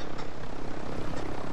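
A helicopter carrying AI enemies in a video game, its rotor and engine giving a loud, steady, dense drone that fills the whole moment without any talking.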